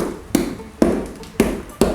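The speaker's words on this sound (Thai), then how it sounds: "เคาะเคาะอย่างเงี้ยนะ" Four sharp knocks on a plaster mold to loosen a rubber cast of a life-size figure model, spaced unevenly about half a second apart, each a close, dry thud with a short ring.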